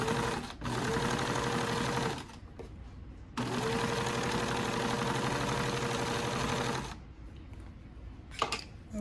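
A sewing machine stitches quilting lines across hot pad fabric in steady whirring runs, pausing briefly between bursts and then running long again, close and moderately quiet.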